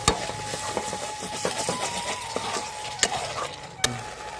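Spice paste with mustard-poppy paste and whisked sour yogurt fries in oil for a Bengali hilsa curry. A soft, steady sizzle runs under faint scraping stirs and a couple of sharp clinks.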